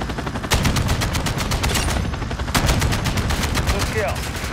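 Sustained automatic gunfire in Call of Duty: Modern Warfare II, rapid loud bursts with a short pause before a second long burst, and faint voices in the background.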